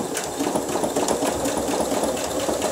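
Twin-needle sewing machine stitching at a steady moderate pace, a continuous rhythmic mechanical whir with fast repeating needle strokes, close and even throughout with no talking.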